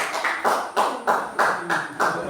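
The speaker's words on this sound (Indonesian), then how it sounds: "kita beri tepuk tangan untuk kelompok 1" A class in a biology lesson claps for a presenting group in a regular rhythmic pattern: about six evenly spaced bursts of many hands, moderately loud and close, with no talk over them.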